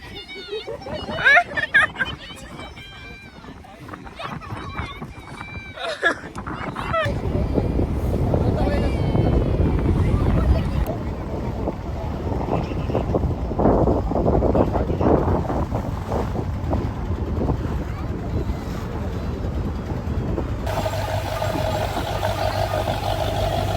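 A small boat rides a rough sea off Bagda beach, with loud continuous wind buffeting and water rush dominating, preceded by a few seconds of talk and followed by a steadier engine-like drone.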